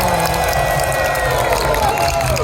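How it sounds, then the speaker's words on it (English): A convention crowd at an anime panel cheers and applauds for voice actress Ayako Kawasumi, a loud, continuous roar of clapping and shouting that fills the hall. "give one more round of applause for Kawasumi-san"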